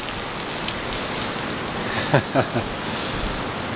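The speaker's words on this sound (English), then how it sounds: "It's raining." Steady rain patters on a surface with a soft continuous hiss, a few heavier drops landing close by.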